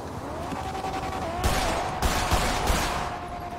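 Gunfire in GTA RP, a video game: a steady crackle of shots with a few louder bursts at middle distance and a thin tone running underneath, sounding mid-loud and slightly distant.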